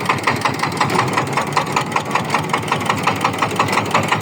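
Power tiller engine with a stuck gear runs close and loud, a steady rapid knocking chug with an even pulsing rhythm throughout.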